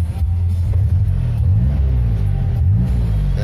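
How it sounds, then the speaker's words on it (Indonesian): A 1984 Daihatsu Hijet engine running close up, a steady low rumbling idle with slight rises in pitch as it is revved, loud and continuous with no talk. "Oke, kita coba nyalain mesinnya"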